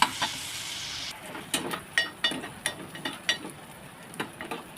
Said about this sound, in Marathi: कांदा तेलामध्ये परतून घेतलेला आहे